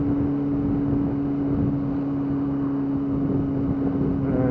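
A Yamaha YZF R6 motorcycle engine runs at low revs during slow riding, giving a steady, loud, even drone that holds without any audible stutter.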